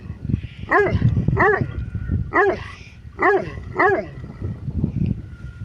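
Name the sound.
dog barking loudly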